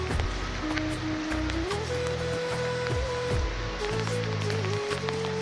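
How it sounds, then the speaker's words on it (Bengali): Rain falling at night makes a steady, dense hiss throughout, with low droning tones and faint tonal sounds running beneath it. "দেবর লাইটে এটা হচ্ছে বৃষ্টিটা দেখা যাচ্ছে।"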